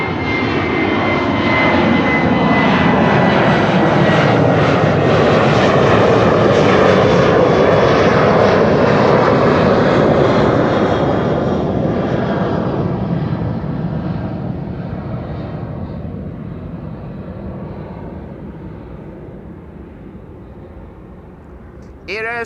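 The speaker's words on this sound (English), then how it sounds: "The Embraer 190 to T side will probably take off first." An Embraer 190 jet takes off from Schiphol's Kaagbaan runway 24, its loud engine roar building and then fading slowly as the aircraft climbs away.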